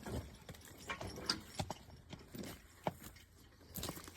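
Belgian draft horses working in the woods, with several irregular, faint hoof clops and thuds, spaced unevenly over a quiet outdoor background.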